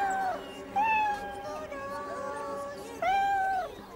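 A cat meows repeatedly in a children's show, three drawn-out, rising-and-falling cries standing clearly over a soft background, the first and last louder and closer.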